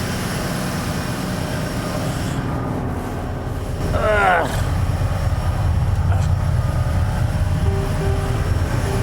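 A fishing boat engine drones steadily, heard from right beside it, low and constant, with a brief squealing sweep in the middle.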